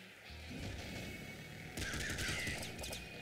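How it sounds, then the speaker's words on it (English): Shotgun blasts in the video game Nuclear Throne, a dense run of rapid bursts that grows louder and busier partway through, layered over a steady game soundtrack with no talking. "let's just flood this thing with crazy shotgun shots"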